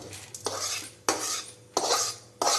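Lentils for idli podi are dry-roasted in a pan. Four distinct, close sweeping strokes of a spatula scrape the grains across the metal, with a rustling rattle between strokes.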